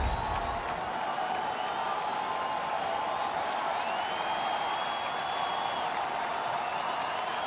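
A baseball stadium crowd roars steadily at a San Diego at Chicago game, a dense wash of cheering and clapping with scattered whoops that holds at an even level throughout.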